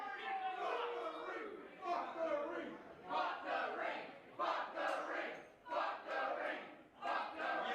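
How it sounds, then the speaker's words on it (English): A wrestling crowd at a deathmatch shouts and chants in surging bursts, rising and falling in rhythmic waves, moderately loud and slightly distant, with a voice talking over the crowd. "This crowd is awesome."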